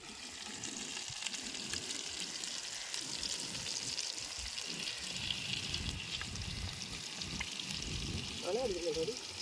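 Pieces of varal fish sizzle steadily in hot oil while being fried for a traditional pickle, with a continuous close hiss and no clear speech.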